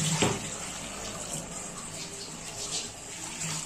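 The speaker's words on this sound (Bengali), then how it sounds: "জল দিয়ে আর একটু দেবো জল" Water poured into a pan of Katla fish curry (kalia), a soft steady gushing stream running throughout at moderate volume after a brief clink at the start.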